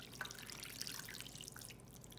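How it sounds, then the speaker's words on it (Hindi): Water pouring and trickling onto 2 kg of raw chicken wings for washing in a home kitchen, a steady splashing dribble that runs without pause, close and fairly quiet. "इसमें वाटर डाल लेते हैं।"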